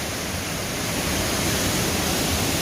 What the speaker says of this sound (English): I was able to find a way down to view this most impressive waterfall